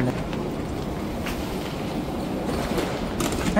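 Steady rumbling hum of an airport metro train in motion, with constant low roar and faint rattles throughout, no talking.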